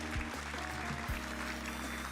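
Canned applause plays as a short burst of clapping and cheering under a steady electronic hum, with a couple of low thumps near the start.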